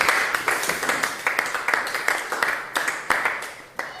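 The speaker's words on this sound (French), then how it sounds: "Acclamons très fort ici." A church congregation applauds the Lord during a service, with steady, lively clapping from many people filling the room for several seconds.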